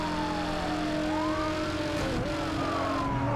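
Police car siren wailing in a Need For Speed Hot Pursuit Remastered chase, a steady loud sweep over engine roar and drifting tire noise throughout.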